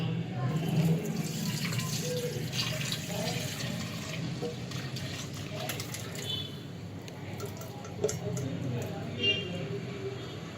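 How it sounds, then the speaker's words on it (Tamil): Nannari root liquid is poured through a filter in a home kitchen, a continuous splashing trickle of liquid heard close, with talking over it. "இப்போ இதை நம்ம ஃபில்டர் பண்ண போகிறோம்."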